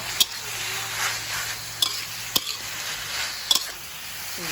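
Straw mushrooms and glass noodles are stir-fried in a pan, a spatula scraping and tossing in irregular strokes with a few sharp clicks over a soft sizzle.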